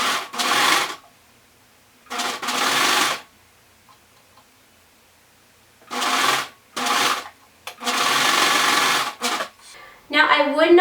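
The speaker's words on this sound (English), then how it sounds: "I am going to sew that seam" A sewing machine stitches a t-shirt sleeve seam in several short bursts of fast mechanical whirring, separated by quiet pauses, close up and fairly loud, with a brief rustle of fabric at the end.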